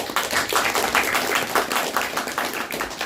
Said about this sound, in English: Let's give a round, loud claps.